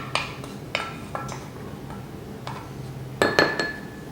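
Blueberries are being taken out of a cooking pot, with scattered light clinks of dishes and utensils, several sharp taps spaced irregularly with a brighter cluster near the end, over a quiet kitchen background.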